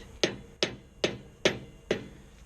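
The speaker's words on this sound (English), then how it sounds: "Sometimes you can take your hammer and put it on the very lip" Five sharp metallic hammer taps on a trailer wheel bearing cap at a steady, unhurried rhythm, each ringing briefly before the next, close by with no talking.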